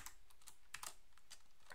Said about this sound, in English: I can just start typing go